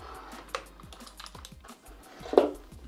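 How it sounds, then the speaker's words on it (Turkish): Mechanical keyboard keys of an XPG Summoner clicking up close, a steady run of sharp taps with one louder clack near the end, no voices. "Mekanik bir klavye arkadaşlar. Sesten belli oluyor zaten mekanik olduğu."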